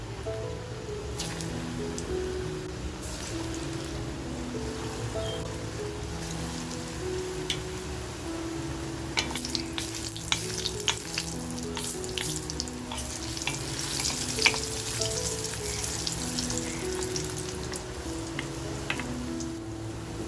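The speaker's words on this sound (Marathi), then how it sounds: "कोफ्ते बघा आपल्याला छान आहे ना फ्राय करून घ्यायचे, पण करपवायचे नाही" Vegetable kofta balls deep-frying in hot oil for a spicy hotel-style curry, a continuous crackling, bubbling sizzle that sounds like steady rain, with no talking and no pauses.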